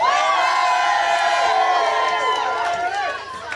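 Wedding guests cheer and whoop together, a loud sustained crowd roar of overlapping voices close by that tapers slightly at the end.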